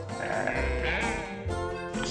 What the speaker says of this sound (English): Who do sophisticated sheep baa for?